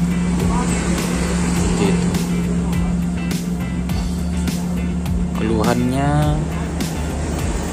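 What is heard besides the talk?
fuel-injected motorcycle engine revving, sputtering, not reaching full revs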